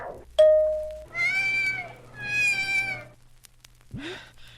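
A cat meows twice in long, drawn-out cries, after a short tone, with a low steady hum beneath and a brief sound at the end.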